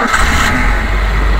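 A 2011 Suzuki Futura pickup engine cranks and catches, then settles into a loud, steady running hum close to the microphone, with no talking.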